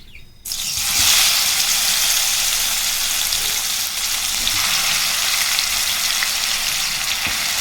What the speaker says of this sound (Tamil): நம்ம மசாலா கலந்து வச்ச சிக்கனை எண்ணெயில் சேர்த்திடலாம்